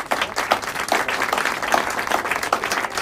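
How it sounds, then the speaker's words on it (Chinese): Short burst of group applause at a small gathering, many hands clapping at once in a dense, even patter close by with no talk over it. "来，大家给他鼓掌。"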